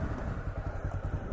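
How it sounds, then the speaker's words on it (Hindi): A Honda CB300R motorcycle idles close by, a steady low, throbbing exhaust pulse with no talking. "तो मैं आपको बाइक का एग्जॉस्ट नोट सुनाता हूँ,"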